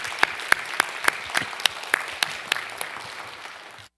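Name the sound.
audience applause at a graduation ceremony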